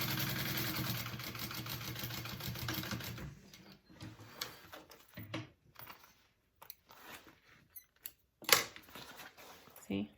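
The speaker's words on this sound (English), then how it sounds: "I'm going to baste this on with a 1/4 inch seam allowance just so I catch that middle section" A sewing machine basts a 1/4 inch seam on a Raelyn bag panel, whirring in a steady continuous run before stopping, followed by short handling sounds and brief bursts.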